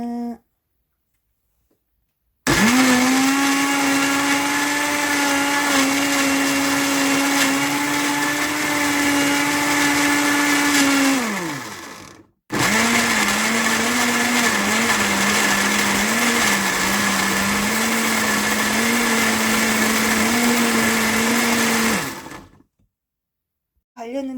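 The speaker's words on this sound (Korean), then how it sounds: "이렇게 해서 다시 믹서기로 갈아줍니다." A blender whirs loudly in two long runs, grinding pear and chili peppers with a little water, steadily with a brief pause between them, then cuts off.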